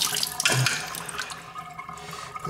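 Water running from a bathroom faucet as a faucet washer is rinsed clean of debris, a steady close splashing flow that softens slightly toward the end, no talk.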